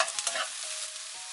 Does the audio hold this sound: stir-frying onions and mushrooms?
yes